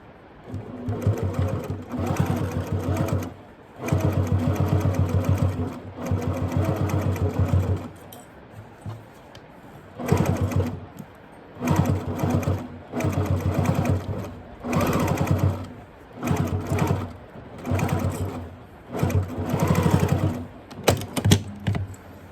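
A sewing machine runs in repeated bursts as it back stitches a fabric mask, its fast rhythmic mechanical chatter starting and stopping between short pauses, loud and close.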